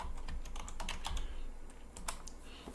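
Rapid bursts of keystrokes on a computer keyboard as a search term is typed into an operating system menu, a close, steady clatter of irregular clicks with no talking.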